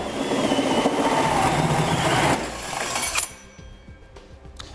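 A steady, loud grinding whine of a power drill with a hole saw cutting through metal while installing a fifth-wheel hitch on a 2016 Ford F-250 Super Duty, then it cuts off abruptly, leaving quiet clinks and shuffling.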